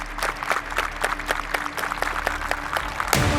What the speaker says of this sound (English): The group clap has begun.